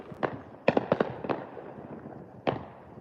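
New Year's Eve fireworks: a handful of sharp bangs at uneven intervals, moderately distant, with no voices.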